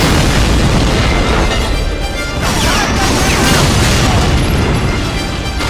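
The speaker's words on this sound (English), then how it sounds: "storming the beaches amongst a hail of gunfire and artillery bombardment" A PS2 beach-landing war game fills the scene with a loud, continuous roar of gunfire and artillery bombardment, with overlapping booms and crackling blasts running steadily throughout.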